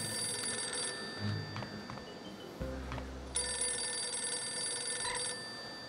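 A German payphone rings in the video game No One Lives Forever, two bursts of bright electronic trilling separated by a pause, with a few clicks and a low thud between them, fairly loud and alone.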